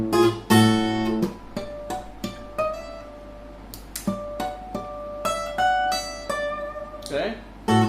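Clean plucked fingerstyle guitar notes from The Entertainer ring out one by one, some slurred quickly into the next with pull-offs, forming a slow, sparse melodic phrase played solo.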